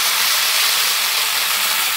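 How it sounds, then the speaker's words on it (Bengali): Vegetables for a vegetarian Malabar spinach chorchori fry in hot oil in a wok, giving a steady, loud, close hiss of sizzling that holds even from start to end. "আর অন্যান্য সবজিগুলোকে একটু নেড়ে নিচ্ছি তেল দিয়ে।"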